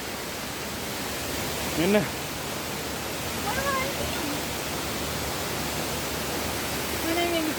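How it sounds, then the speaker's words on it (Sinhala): Duli Ella waterfall in Lankagama, Sri Lanka, roars as a steady broadband rush of falling water, while a few brief voices speak faintly over it. "තවත් ලස්සන තැනක් තමයි මේ දූලි ඇල්ල"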